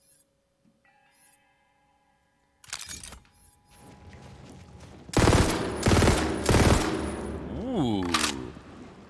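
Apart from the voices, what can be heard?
burst fire gun in Tiny Tina's Wonderlands video game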